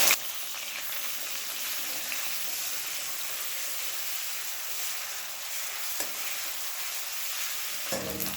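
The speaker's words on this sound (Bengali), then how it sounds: "গ্যাসটাকে মিডিয়াম ফ্লেমে রেখে পেঁয়াজের কাঁচা গন্ধ চলে যাওয়া অবধি 2 মিনিট ভেজে নেব।" Grated onion fries in oil over a medium gas flame, giving a continuous even hiss close by, with a brief clatter at the start and a couple of faint utensil knocks.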